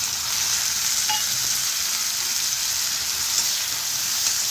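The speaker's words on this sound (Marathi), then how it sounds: "बारीक चिरलेला टोमॅटो घालते" Chopped tomato going into onions frying in a pan for egg bhurji rice, giving a bright, steady hiss of sizzling oil that stays even throughout, close and unbroken, with no speech over it.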